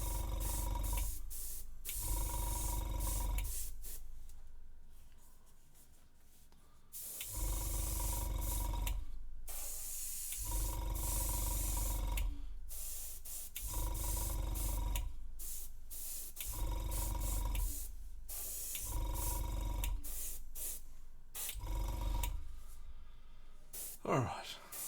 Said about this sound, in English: the wonders of airbrushing makes us look like we can do a good paint job